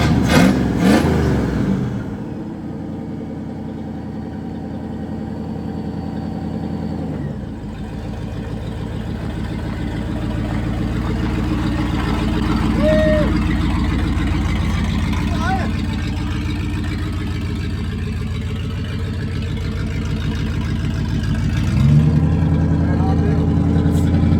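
A 1979 Ford Bronco's engine runs steadily while the truck drives on the road, with a continuous mid-pitched drone and gentle swells of revving, heard close and loud throughout with no speech.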